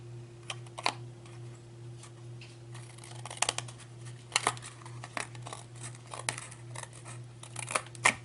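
Scissors trim paper strips up close, faint irregular snips and paper rustles over a steady low electrical hum.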